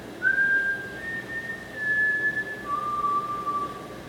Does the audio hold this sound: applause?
no